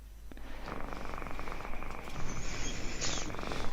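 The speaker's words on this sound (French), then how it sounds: "On ressent le ronronnement du chat." A cat purrs close by in a steady, continuous low rumble, with a faint high tone entering near the end; there is no talk over it.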